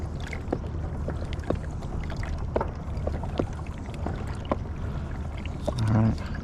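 A bass fishing boat trolls through water, a steady low engine drone with water splashing and gurgling against the hull, close and constant, with a brief louder gurgle near the end.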